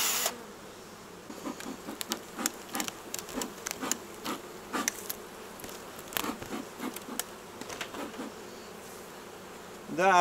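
Honey bees from a captured swarm buzz steadily around a hive as the swarm is moved from a trap, a continuous close drone with scattered ticks and light knocks from handling the frames.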